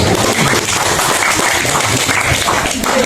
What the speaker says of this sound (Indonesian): Tepuk tangan buat Mbak Maria.